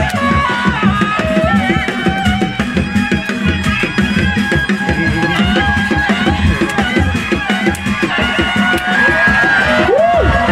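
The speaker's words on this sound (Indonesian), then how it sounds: "Tepuk tangan tuh luar biasa." A crowd at a Reak folk performance festival in Rancakalong cheers and claps loudly and continuously, a dense roar of voices with music and shouting mixed throughout.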